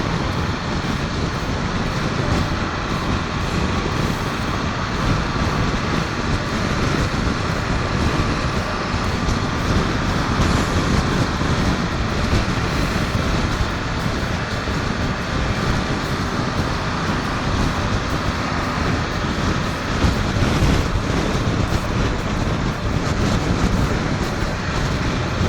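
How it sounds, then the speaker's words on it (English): Strong wind buffets an outdoor microphone in a loud, continuous broadband rumble that holds steady for the whole stretch, with no talking heard. "apparently it's super windy today"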